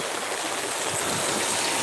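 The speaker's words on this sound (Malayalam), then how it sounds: "ഇതാ ആ പാലത്തിൽ നിന്ന് മുട്ടിയിട്ടാണ് വെള്ളം പോണേ" Loud, continuous rush of fast-flowing floodwater striking a bridge on the Kannara river after Peechi Dam opened, a dense steady roar with no pauses, close by and heard alone.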